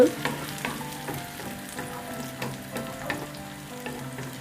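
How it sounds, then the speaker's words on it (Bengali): Onions fry in a pan with a constant close sizzle, interrupted by soft regular scrapes and taps of stirring, moderately quiet and with no voices. "তারপর আমি পেঁয়াজটা একটু ভেজে নেব।"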